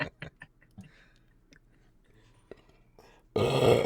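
A loud, raspy burp bursts out at the end after a stretch of quiet clicks and small mouth noises.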